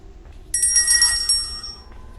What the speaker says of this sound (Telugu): ఫోన్ విన్నావు